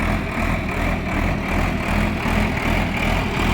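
A Sonalika tractor engine at 1200 rated RPM pulls a plough through a field, a loud, steady low diesel drone with a regular pulsing throb throughout and no voices.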